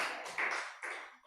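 A church congregation at a Wednesday worship service clapping, a short burst of applause that fades, with no talk over it.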